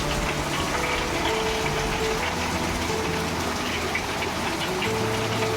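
Steady rain falls continuously on a rainy day, a constant even hiss with a low mechanical hum running underneath and no talking.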